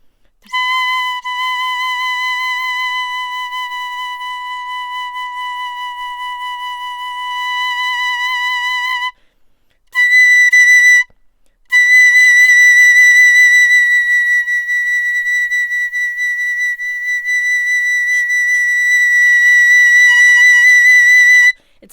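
A piccolo plays sustained high notes with bright, pure tone and strong harmonics, close and loud, holding long tones broken by two brief pauses near the middle, with no talking over it.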